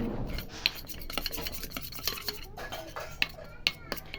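Besan, turmeric and milk being mixed into a thick face-pack paste, soft wet rubbing and scraping strokes punctuated by sharp little clicks of a spoon against the bowl, quiet and close, no voices.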